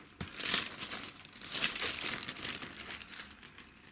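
Polyethylene bag crinkling close up as a Pioneer laser disc is unpacked from its sleeve, a steady busy rustle lasting several seconds with no talking.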